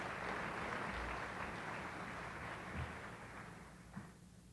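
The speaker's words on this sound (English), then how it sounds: "Let's give him a big round of applause." Distant, muffled applause from an audience, a steady wash of clapping that slowly fades.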